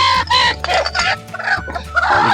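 Chickens on a rooftop terrace poultry farm cluck in quick, loud bursts close by, with several birds calling over one another and no talking.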